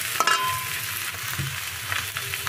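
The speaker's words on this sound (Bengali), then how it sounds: "আমি ভেজে নেব।" Rice fries in a pan with a rohu fish head, potatoes and spices, giving a brief close sizzle with a scraping stir or two and no talking.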